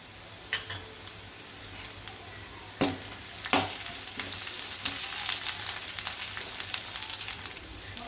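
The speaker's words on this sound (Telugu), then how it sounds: "అండ్ కరివేపాకు వేసుకుని ఫ్రై చేసుకున్నాము." Curry leaves and ginger-garlic paste frying in a pan for Andhra-style tomato rice: a continuous close sizzle and crackle with occasional spoon knocks against the pan, building slightly louder toward the end, without speech.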